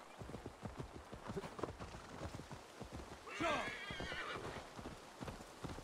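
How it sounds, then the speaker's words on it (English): Horse hooves clop steadily in an Assassin's Creed Valhalla game scene, then a horse gives a rising whinny midway, all fairly quiet beneath the background. "Where'd my horse go?"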